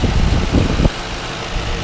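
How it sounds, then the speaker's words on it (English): A police interceptor's big V8 engine idles up close, a dense low rumble that steps down to a steadier, quieter idle partway through, with no talk. "my big old V8 engine"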